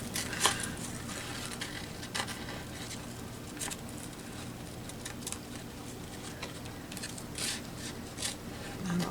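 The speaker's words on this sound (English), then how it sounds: "I'm just going to cut what I can with my big scissors" Large scissors cut through paper in quiet, irregular snips and crisp rustles, soft and close with no talking.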